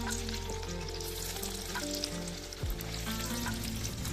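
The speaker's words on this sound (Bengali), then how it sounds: "এবারে ধোকাগুলো মাঝারি আঁচে হালকা করে ভেজে নেব।" Lentil cakes (dhoka) fry in oil over medium heat, giving a steady, close sizzle that carries on throughout, with a tonal musical bed underneath.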